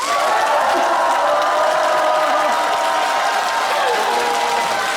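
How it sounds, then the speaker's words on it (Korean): An audience at a national arts festival concert in Andong cheers and claps loudly for an encore, a dense, steady roar of applause and shouting that fills the whole stretch without a break. "5초의 함성과 큰 박수예요"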